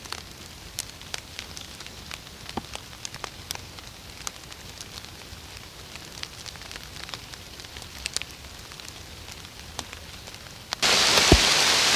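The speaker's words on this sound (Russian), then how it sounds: "и пошел дождь, не слабый" Heavy rain falls in a forest on a mushroom-hunting trip, a steady hiss dotted with sharp, close drop taps on a surface. Near the end the rain swells into a louder, denser rush.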